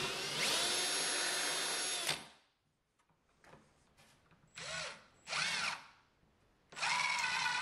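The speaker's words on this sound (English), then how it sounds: "And then added the four screws to hold the side on." Power drill driving screws into the side of a wooden floating shoe shelf, a loud close whine for two seconds, then quiet handling and short whirring bursts before another sustained drive.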